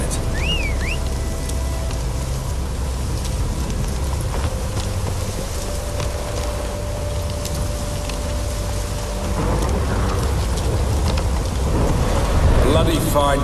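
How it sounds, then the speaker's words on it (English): Steady rain falls during a thunderstorm in a fantasy role-playing game, a continuous hiss with low rumbling underneath, while a brief whistle-like tone and game sounds sit over it. "The storm, damn it."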